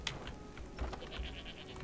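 A goat bleats from an animal pen in the video game Skyrim, heard as a few soft wavering cries over a quiet ambient game backdrop.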